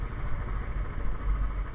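A 2015 Royal Enfield Classic 350 motorcycle engine runs at idle, a steady low, close thumping hum with no speech over it.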